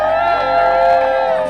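Crowd of D.C. statehood demonstrators at the foot of the Capitol cheering and shouting, a loud, sustained roar of massed voices that fills the short moment without a break.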